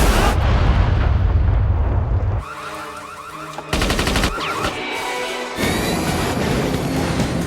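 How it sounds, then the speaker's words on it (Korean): A loud explosion in a Pierce Brosnan-era James Bond film opens with a heavy roaring blast, then gives way to abrupt cuts of crackling, rattling debris and bursts. "MI6의 국장 M의 친구였던 로버트의 앞에서 폭발해버립니다"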